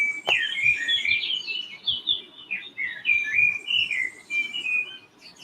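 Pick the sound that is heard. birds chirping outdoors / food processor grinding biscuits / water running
birds chirping outdoors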